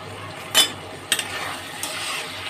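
A spoon stirs cooked okra in a pan, giving a couple of brief scraping clinks over a soft steady sizzle, close and fairly quiet.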